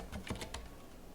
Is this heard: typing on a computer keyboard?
yes